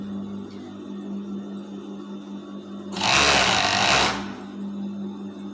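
A sewing machine stitches over a seam on a fabric garment in one brief burst of rapid, rattling needle strokes, loud and close, with quiet room hum before and after.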